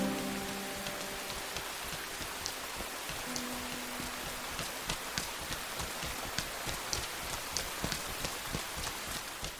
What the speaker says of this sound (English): wander around the streets of this lonely city soaked in the rain